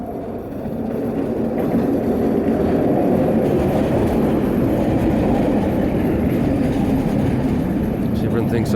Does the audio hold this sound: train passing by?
yes